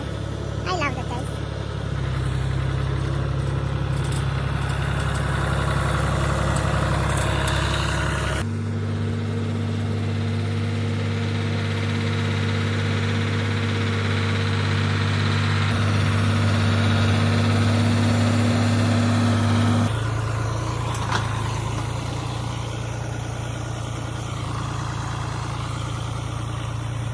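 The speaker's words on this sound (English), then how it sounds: "I'm going to ride in the John Deere." A John Deere tractor engine runs steadily throughout, a loud, close diesel drone that holds at a constant idle with slight shifts in pitch, with a voice talking over it in places.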